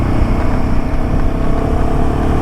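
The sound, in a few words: Royal Enfield Himalayan 450 motorcycle riding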